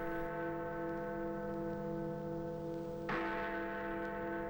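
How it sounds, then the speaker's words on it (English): Big Ben, London's 13-ton hour bell, rings with a long sustained hum, then one heavy strike tolls noon and resonates; recorded in 1976. "then Big Ben, the 13-ton hour bell, tolls 12 noon"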